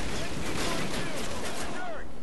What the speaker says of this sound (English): Oh, geez, explosion! That was huge.